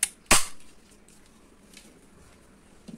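A black and yellow A222 toy pistol fires a single sharp, loud crack near the start, followed by quiet handling noise and a faint click at the end.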